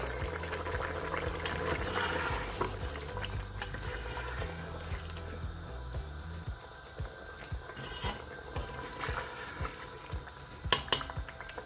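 Chopped tomatoes tumble into a pot of Turkish stew over half-cooked vegetables, giving a few soft, wet thuds and light clinks of pan and utensil under steady background music.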